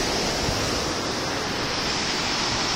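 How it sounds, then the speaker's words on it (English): Heavily aerated water of the Upper Rogue River at Natural Bridge rushes in a constant loud, broadband roar, dense and unbroken throughout. "this water right here is so aerated that nothing will float in it"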